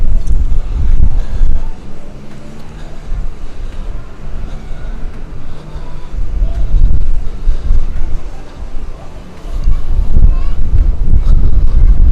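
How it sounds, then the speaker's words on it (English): Strong wind buffets the microphone on the open outer deck of the Royal Caribbean cruise ship Voyager of the Seas, a loud, continuous roaring rush that swells and eases in gusts throughout. "Lots of breeze."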